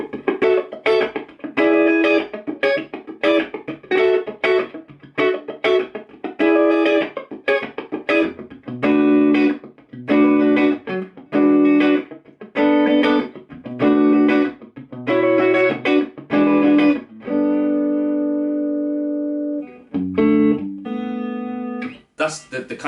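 Clean electric guitar tone through an amp's clean channel, played as strummed chords and picked notes with a round, even sound, loud and close, ringing out alone near the end.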